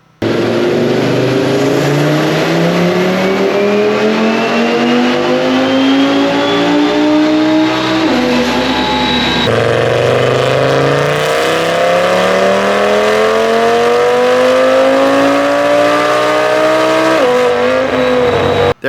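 A tuned, turbocharged TTE855 car engine pulling hard on a dyno, two loud sweeping rev runs that climb steadily in pitch, each ending abruptly before the next pull.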